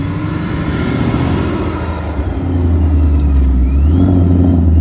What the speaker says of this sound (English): Those downshifts always get me.